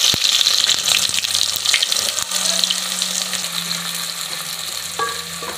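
Chopped onions sizzle in hot oil with cumin seeds in a pot for beef pulao, giving a steady, close frying hiss with faint stirring throughout.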